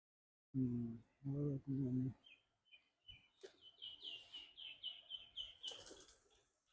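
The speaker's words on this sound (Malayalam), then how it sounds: "ആഹാ, മറ്റുള്ള ബേർഡ്സും കാണാം. പ്രാവൊക്കെ ഉണ്ട്." At Norwest Lake, birds give a string of thin, high, rhythmic chirps, fairly close, starting just after a person speaks briefly, with a few soft wing-flutter sounds.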